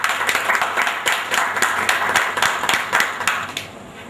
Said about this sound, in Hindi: मैं इन्हीं शब्दों के साथ एक बार फिर से राजेंद्र साहब जी को जोरदार तालियों के साथ यहां पर आमंत्रित करता हूं।